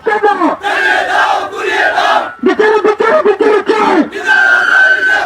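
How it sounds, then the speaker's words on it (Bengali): A crowd of human-chain protesters on a roadside chants a slogan demanding execution, loud, close and in rhythmic unison, with repeated pulsing phrases broken by short gaps. "ফাঁসি ফাঁসি ফাঁসি চাই, হৃদয় হত্যার ফাঁসি চাই, খুনিরা জীবের ফাঁসি চাই। এই নিয়ে স্লোগান তুলেছিলেন মানববন্ধনকারীরা।"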